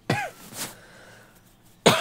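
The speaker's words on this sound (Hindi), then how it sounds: "सॉरी अगेन, आज बहुत खांसी आ रही है" A sharp cough, then a softer one, and a third abrupt cough after a quiet pause, close and unaccompanied by talk.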